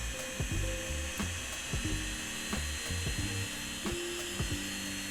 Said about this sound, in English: I'm gonna put this fan about 4 inches away from the microphone